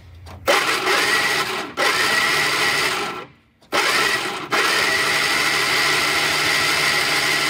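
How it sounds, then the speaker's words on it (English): A supercharged Sprite engine cranks over on the starter in several bursts, a steady loud whirring with brief breaks between bumps as oil is pumped through, heard alone with no talk. "I'm just gonna bump the starter from in here so that I can kill it quickly once the oil starts to flow."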